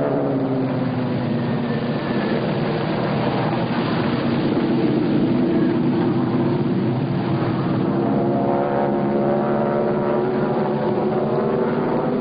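Four North American T-6 propeller aircraft of the Brazilian Air Force smoke squadron fly in formation, their engines producing a loud, continuous droning roar that swells and shifts in pitch as they pass.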